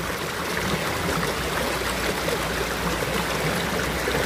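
A river stream at the Namcheon riverside in Gyeongsan flows at dawn, a close, continuous rushing and bubbling of water at an even level with no voices.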